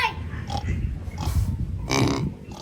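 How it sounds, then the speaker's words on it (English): Several grunting pig oinks come in short irregular bursts nearby at a theme park zoo in Mendez, Cavite, Philippines, with background noise and no clear talk. "Oink, oink."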